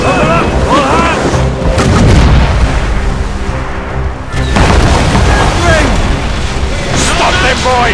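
Ship cannons on the Morrigan boom in Assassin's Creed Rogue, heavy blasts rolling one after another, loud and dense amid battle noise, with shouting voices layered throughout.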